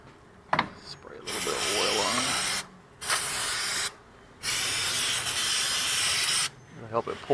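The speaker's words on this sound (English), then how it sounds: "Spray a little bit of oil on." Oil is sprayed from a can onto a Ford Explorer or Ranger 4x4 front wheel bearing in three long hissing bursts, close and fairly loud, with small clicks and handling noises between them and a voice speaking briefly.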